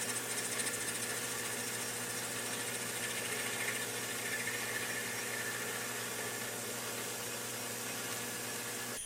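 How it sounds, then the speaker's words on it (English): A metal lathe runs steadily while facing off the end of a piece of brass stock cut to length for a tapered vise crank handle, giving a continuous, even mechanical hum with a faint cutting hiss and no talk. "I'll cut to length here, and we'll throw it in the lathe and face off the end as is tradition"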